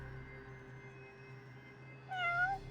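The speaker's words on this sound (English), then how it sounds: "Oh look, a cat." Cat meowing in the video game Judgment, a single short, faint meow rising at the end over a steady low game ambience.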